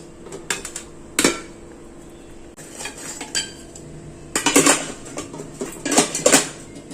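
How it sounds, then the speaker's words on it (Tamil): Idli being lifted from a steamer and set down on a plate in a kitchen, with a few sharp metallic clinks and scrapes of utensils against steel, close and clear, in short bursts separated by quiet. "இட்லியை வந்து நம்ம பிளேட்டில் எடுத்துக்கலாம்."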